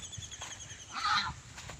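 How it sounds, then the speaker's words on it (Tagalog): A goose carried in a sack honks once, fairly close and muffled, over rustling and background noise. "Dala na namin yung gansa."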